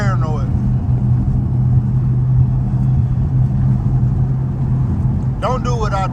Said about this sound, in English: you damn sure ain't supposed to be driving on no broke drive shaft